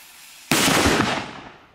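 A loud Spanish butterfly firecracker goes off nearby with a sharp blast that crackles and rumbles for about a second before fading, with no one talking over it.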